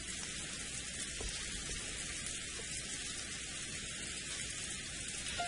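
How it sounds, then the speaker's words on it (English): A rain sound effect from the visual novel Umineko plays as a constant, dense hiss of falling rain, evenly loud and unbroken, with no voices. "Quietly, the rain fell down."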